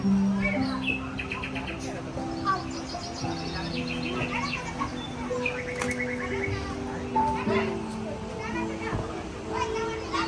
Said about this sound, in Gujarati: ચકલીઓ બોલે છે, પાછળ અમે ચકલીઓ પણ મૂકી છે.